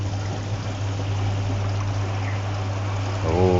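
A static bed aerator switched on inside a koi pond filter produces a steady, close bubbling and churning of water over a constant low hum, with a brief deeper gurgle near the end.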